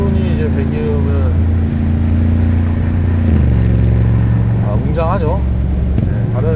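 A 2022 Mercedes-AMG G63 drives along with a deep, steady exhaust drone that shifts pitch partway through as it changes gear or speed. Someone talks over the engine throughout.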